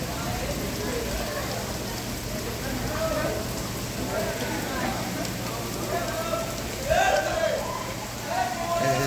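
Steady night rain falls over a city after a heat wave, a dense, even hiss close by, with distant voices of boys playing in it rising faintly underneath.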